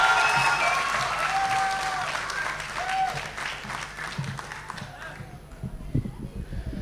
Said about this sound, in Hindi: एक बार और जोरदार तालियां उनके लिए आप बजाएं